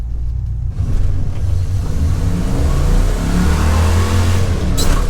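A car with 3.55 rear gears launches hard in a 0 to 60 run, its engine rising into a loud, sustained rev with a rumbling roar and no talk over it.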